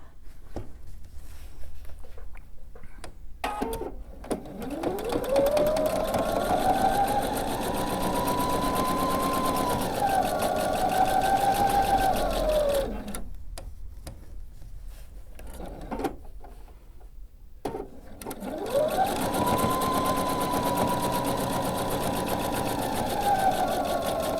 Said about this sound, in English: Now I'm going to sew on the other side.